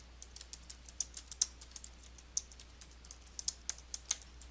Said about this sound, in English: then type the text using your keyboard